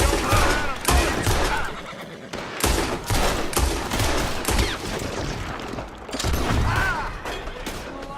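A Red Dead Redemption 2 gunfight during a robbery, with dense, rapid gunfire and repeated loud shots cracking close by, a horse whinnying among them.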